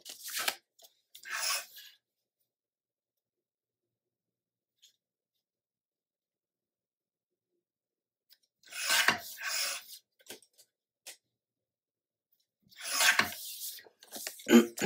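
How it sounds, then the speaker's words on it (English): Paper card is trimmed for a scrapbook page in three short, close bursts of scraping cuts, separated by long silences. "I over trimmed it"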